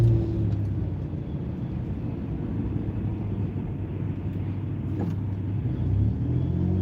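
A car engine rumbling through its muffler in a deep, steady low drone at close range, with a slight rise in intensity toward the end and no voices.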